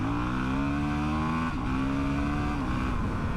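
Honda CRF450RL motorcycle pulling hard in second gear with traction control off, a steady loud engine note rising in pitch, dipping briefly midway and again near the end as it keeps accelerating close by.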